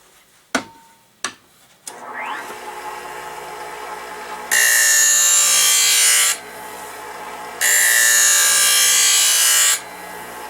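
Wissota 911 sharpener grinding the blade of a rental ice skate, two loud steady harsh grinding passes of about two seconds each, preceded by a few sharp clicks and a motor spinning up, with a quieter hum between passes.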